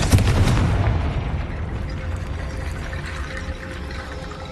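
A Confringo spell explosion in the video game Hogwarts Legacy, a loud booming blast at the start that rolls off into a long rumbling decay, with no talking over it.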